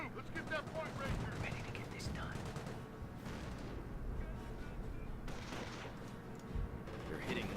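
Sustained gunfire and explosions from a Company of Heroes skirmish battle, with machine gun bursts rattling through a dense, continuous wall of combat noise while a voice speaks intermittently over the din.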